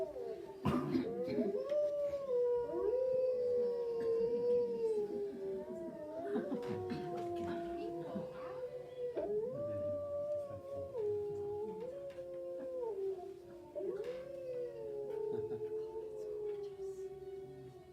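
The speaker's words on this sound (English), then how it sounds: "Here's the wolves." A pack of wolves howls in long, overlapping rising and falling tones that carry on throughout, several voices weaving together at a steady loud level.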